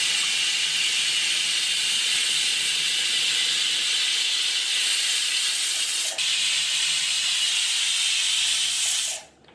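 A pressure cooker cooking mutton vents steam in a loud, steady, close hiss that holds for about nine seconds and then cuts off abruptly.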